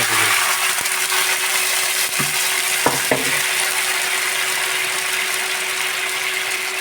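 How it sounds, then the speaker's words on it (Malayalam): Cooked chicken pieces frying in a pan with their gravy for chicken shawaya, a loud, continuous sizzle and crackle filling the whole stretch, with a couple of sharp utensil knocks near the middle and a steady tonal hum underneath. "ഇനി നമുക്കിത് ഫ്രൈ ചെയ്തെടുക്കാം. പാൻ വെച്ചിട്ടുണ്ട്."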